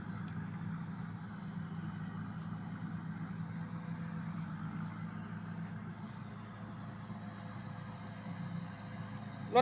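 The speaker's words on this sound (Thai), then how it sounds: "รถไถก็มาติดลมอยู่นี่ล่ะมิวปกติมันตีโค้งแล้ว มันเลี้ยวบ่ได้เนี่ย" A farm tractor engine chugs steadily at low volume, a continuous mid-distance drone with no other clear sounds.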